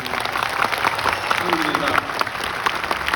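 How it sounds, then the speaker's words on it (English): Audience applauding for the Moroccan team at a speech event, a full crowd of many hands clapping steadily with scattered louder claps, fairly close and continuous, mixed with some voices from the crowd. "Round of applause for the Moroccan team."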